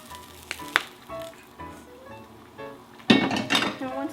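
Kale cooks in hot oil in a pan, a dense crackling sizzle that suddenly flares loud near the end, following quieter clinks of utensils and cookware, close by, with a person talking over the earlier part.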